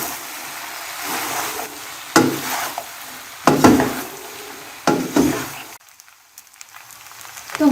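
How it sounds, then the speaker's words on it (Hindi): A spoon stirs boiled macaroni pasta into cooked vegetables in a pan, making several close, separate scraping and sizzling bursts with short pauses between strokes. "अब मैं इसमें ऐड करूंगी बॉयल किया हुआ पास्ता और इसे करेंगे अच्छे से मिक्स।"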